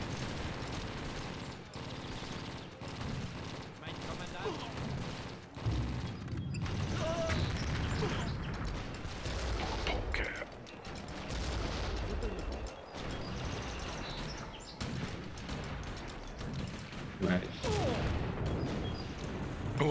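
Bombing explosions and gunfire in the strategy video game Empires: Dawn of the Modern World, repeated booms and crackling shots of varying loudness spread through a busy battle, with a few faint voices.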